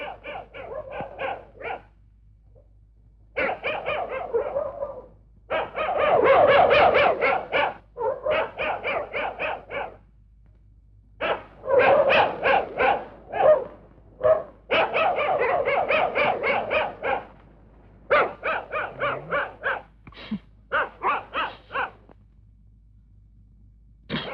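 Dogs bark repeatedly in loud, close bursts with short pauses between volleys, alone with no talk.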